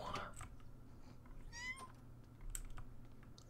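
A small kitten in The Sims 4 gives a few faint, high meows alone against quiet game ambience, with light clicking in the background.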